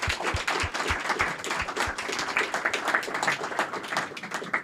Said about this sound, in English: let's give a big round of applause to all our lightning talk speakers